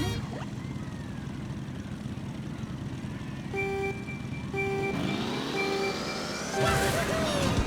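Mario Kart World race start: a countdown of steady electronic beeps over a busy bed of kart engine noise, rising into revving motors and bright game music as the karts launch.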